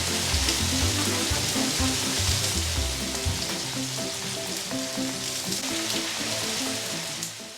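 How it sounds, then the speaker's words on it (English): Onions fry in hot coconut oil in a wok, a dense, steady sizzle and crackle close up with no voices. "Heat up the coconut oil in the wok and add in the onions."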